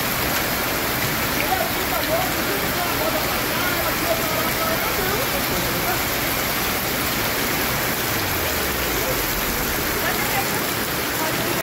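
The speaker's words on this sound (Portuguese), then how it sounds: "a força da enxurrada impressionava" Floodwater from heavy rain surges through a city street in Teófilo Otoni, a loud, steady broadband roar of rushing torrent that fills the whole clip without a break.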